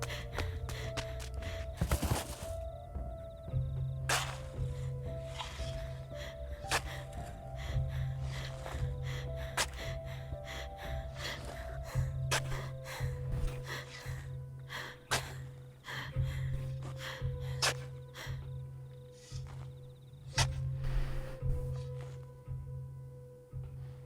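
Heavy, ragged breathing of Tom from the horror game Wick, a sequence of loud gasps and snorting breaths over a low droning hum, repeating steadily throughout.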